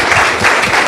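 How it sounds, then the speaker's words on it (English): Applause from a panel discussion audience, a steady wash of many hands clapping together at close range, held evenly throughout without a break or talk on top. "I think it's just a round of applause."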